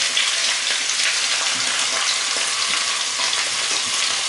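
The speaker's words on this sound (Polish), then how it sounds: "Obsmażamy na rozgrzanym tłuszczu." Rabbit pieces and caraway seeds fry in hot fat, giving a loud, dense, continuous sizzle close by, with no voices.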